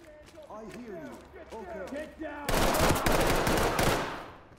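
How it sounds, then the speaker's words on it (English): Rapid bursts of gunfire in the tactical shooter Ready or Not, dense loud volleys erupting after tense shouting, with voices talking over the shots. "Stop shooting him."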